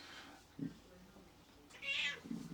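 A house cat meows twice in an outdoor setting, short close calls with a brief bright yowl near the end, heard over low background noise.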